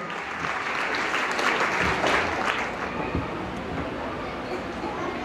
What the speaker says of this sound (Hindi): तालियां बंद नहीं होनी चाहिए, तालियां बजती रहे।